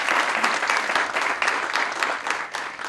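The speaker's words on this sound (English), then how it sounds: "we can give him a round of applause" Audience applause at an outdoor groundbreaking for a new Safeway store at University Town Center, steady dense clapping from a crowd that holds for the full three seconds.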